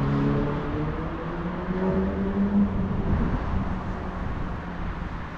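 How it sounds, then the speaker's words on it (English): Several cars passing on a street, a steady near engine and tyre roar with a faint rising tone, heard from the roadside while walking; no talking. "Some cars coming."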